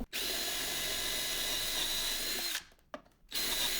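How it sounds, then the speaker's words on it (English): A power drill bores shelf pin holes through a jig held tight against a cabinet panel. One steady, whining run is followed by a pause, a brief blip and a restart, all close by. "hold this jig down real tight when you're drilling"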